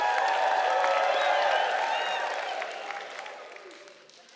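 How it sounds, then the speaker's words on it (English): A church congregation cheers and yells, a dense wash of crowd noise with whoops and clapping that holds strong, then gradually fades over the last couple of seconds. "People are yelling and screaming."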